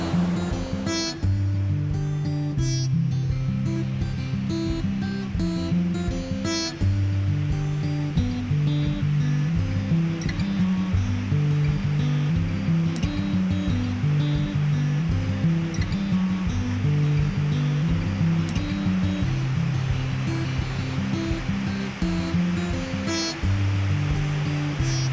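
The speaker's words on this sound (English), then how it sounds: "We finally arrived here to the Banyas waterfall" The Banyas waterfall at the Jordan River headwaters pours in a steady, dense rush of water that fills the whole stretch, with background music playing over it throughout.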